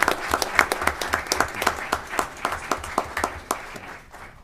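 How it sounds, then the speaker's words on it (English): An audience claps steadily, a warm crowd of applause that thins out toward the end. "let's give a big round of applause for all their work"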